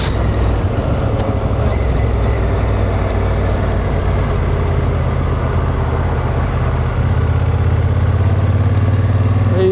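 Honda Africa Twin motorcycle riding along a road toward a beach in Canada, a steady loud engine drone buried in heavy rushing wind noise that holds unbroken throughout.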